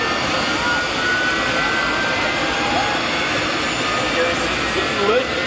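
Hell Fire jet truck's engine building up thrust at a Canadian Nationals show at GBM 2023, a loud, steady broadband jet roar that holds for several seconds with a faint rising whine, while a crowd and announcer murmur beneath.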